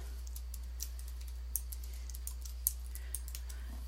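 Quick light keystrokes on a computer keyboard, a scattered run of soft clicks with a few sharper taps, heard close over a steady low electrical hum and no talking.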